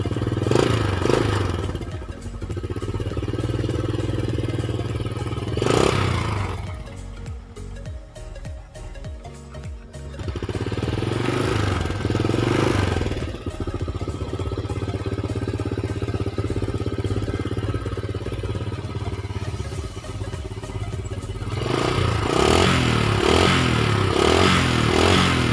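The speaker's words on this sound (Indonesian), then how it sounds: "sebelum kita berangkat kita panaskan dulu motornya teman-teman ya" A stock motorcycle engine warming up before a ride, running steadily up close with a continuous rumble and periodic surges in revs.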